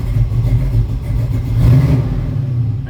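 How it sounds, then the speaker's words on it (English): A car engine fitted with a Holley carburetor idles on a cold start, running rich, a loud, close, steady low rumble that swells briefly mid-way, with no talking. "I love cold starts. It runs rich at idle,"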